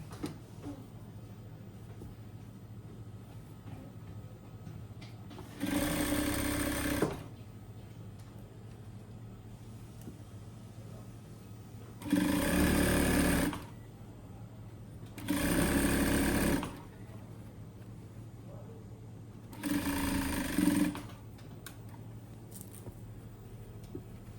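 A sewing machine stitches a tracksuit seam in four separate bursts of steady, rapid whirring, each lasting a second or two, separated by quiet pauses with a faint background hum.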